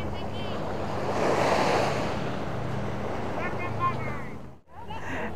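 Surf washing onto a beach on the South Devon coast, a steady loud roar of breaking waves with wind buffeting the microphone, continuous throughout and briefly dipping near the end.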